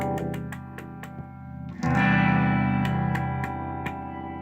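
A MIMEO effects pedal sweeps through its baritone settings on a sustained distorted guitar tone. Short repeated plucks give way to a loud, thick, held chord whose midrange shifts gradually, with no voices.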